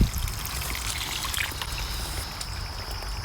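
Water flows steadily through a swale dug for flood irrigation inside a high tunnel, making a continuous close trickling and pouring rush with faint splashes and no voices.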